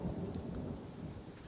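A steady wash of rain mixed with a low rumble of thunder, continuous throughout and without voices.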